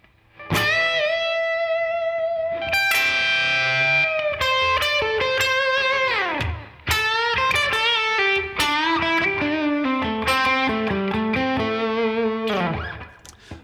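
An electric guitar plays a bluesy rock lick with bends, slides and vibrato, a bright overdriven tone running continuously and close.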